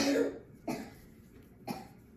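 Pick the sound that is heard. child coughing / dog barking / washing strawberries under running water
child coughing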